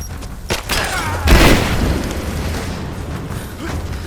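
A grenade detonates in the video game Rise of the Tomb Raider: one loud, heavy boom about a third of the way in, followed by a long rumbling, crackling tail that fades slowly under ongoing battle noise.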